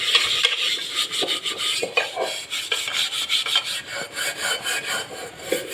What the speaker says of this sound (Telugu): మొత్తం క్లీన్ చేసుకోవాలి చూడండి ఇలా రుద్దుకోవాలి